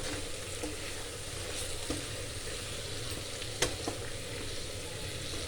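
Garlic-ginger paste and tomato fry in a karahi with a steady, even sizzle and a few brief stirring clicks, heard close and alone with no voices.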